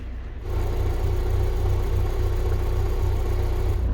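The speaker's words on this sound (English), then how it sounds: "Presumably he's kept the engine running so the engine can get up to full working temperature" A car engine kept running to warm up comes in after a brief quiet moment, then settles into a steady, low idling rumble nearby with no voices.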